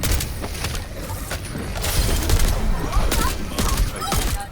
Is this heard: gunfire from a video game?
yes